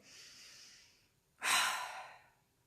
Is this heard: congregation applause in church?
no